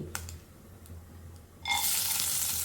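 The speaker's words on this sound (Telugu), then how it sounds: "డ్రై ఫ్రూట్స్ అయితే ఫ్రై చేసుకున్నాం." Dry fruits frying in ghee for coconut payasam: after a quiet start with faint clinks, a loud, bright, steady sizzle bursts in and keeps crackling to the end, close and with no talk.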